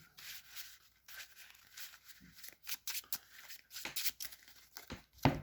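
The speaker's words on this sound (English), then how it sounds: "And we'll finally get around to shuffling." A Yu-Gi-Oh trading card deck is shuffled by hand, giving soft irregular riffling and rubbing bursts of card noise, close and fairly quiet, with no talking.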